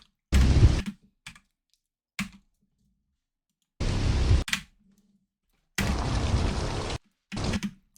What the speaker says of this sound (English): Let me change my keyboard real quick.